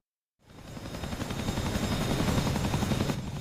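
A Chinook helicopter flies overhead in the combat flight game DCS World. Its rotor chop swells in fast after a brief silence and stays loud and close, a dense rhythmic thumping.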